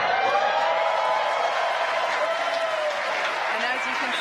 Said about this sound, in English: you can hear by the clapping and cheering behind me, Falcon 9 has landed on our drone ship